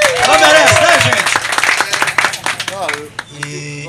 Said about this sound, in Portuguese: gostaria que todo mundo desse aí uma salva de palmas e um grito pra banda